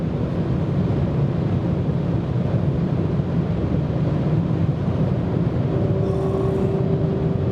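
Audi S5 Coupé cruising at about 220 km/h on an unrestricted highway, a dense steady roar of engine, tire and wind noise filling the cabin, with a faint higher tone appearing near the end.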